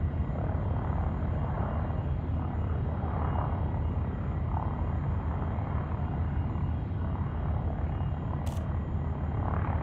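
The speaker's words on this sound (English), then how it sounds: "Powering up the thrusters." Spaceship thrusters powering up in Elite Dangerous, heard as a steady, loud low roar and rumble that holds unbroken throughout, with a brief sharp high click near the end.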